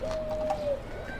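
A pigeon in a loft gives a single short, soft coo, close by and heard alone.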